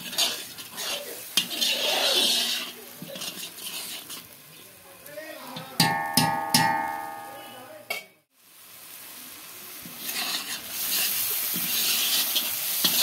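Spices fry in oil in a pan with a loud, steady sizzle while a metal spoon scrapes and clinks against the pan, stirring repeatedly. The sizzle cuts out briefly, then returns.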